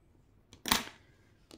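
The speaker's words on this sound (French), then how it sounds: "Je vais venir couper mon fil" Green crochet yarn is snipped with scissors in a single sharp cut, close and fairly loud, preceded by a soft handling rustle and followed by another faint touch.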